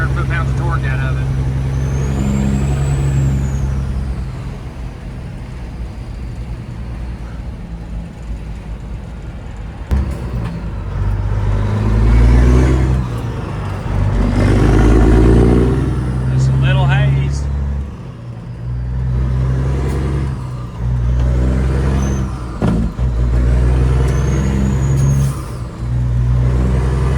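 A modified classic truck with a straight pipe revs its engine, deep rumbling bursts rising and falling over a steady low idle, with turbo spooling whines, close and loud while people talk over it.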